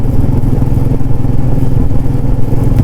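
A motorbike riding along a foggy highway between Jammu and Udhampur at moderate speed, a loud continuous low engine rumble with wind buffeting throughout, no voices.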